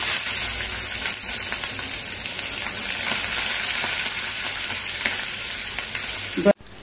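Mustard seeds, curry leaves and chili crackle and sizzle in hot oil for a dhokla tempering, a loud, continuous close-up hiss that cuts off abruptly with a thump at the end.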